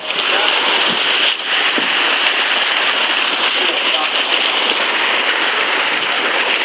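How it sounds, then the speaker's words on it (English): Heavy rain in Mesa, Arizona pours steadily onto a phone held outdoors, a loud, close, continuous hiss and patter with a few sharper hits. "the rain is killing my phone."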